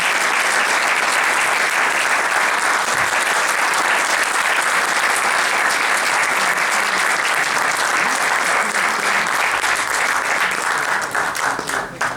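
Sustained, loud audience applause in a concert hall for a Turkish folk musician, a steady wash of many hands clapping for about twelve seconds, thinning slightly at the very end.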